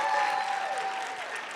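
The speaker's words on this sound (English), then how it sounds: "So let's just give them a huge round of applause." An audience at a scholars' celebration night claps in a dense, sustained round of applause, fairly loud and even, while a faint tonal hum runs underneath.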